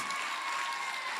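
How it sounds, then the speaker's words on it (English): Brief burst of audience applause at an Africa Day gathering, a dense steady patter of many hands clapping at moderate distance. "One more applause."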